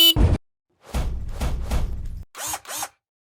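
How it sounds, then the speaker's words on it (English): A scraper strips wallpaper off a wall in a series of rough, raspy strokes, one short scrape then three longer ones and two quick final scratches, close and loud. "Wallpaper, scraping."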